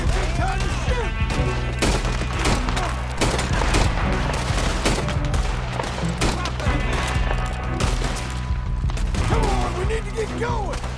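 Gunfire in the video game Red Dead Redemption 2 during a shootout among rocks: dense, continuous volleys of shots and booms fill the scene over steady game noise and shouted voices.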